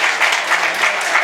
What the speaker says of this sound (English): A round of applause for these three people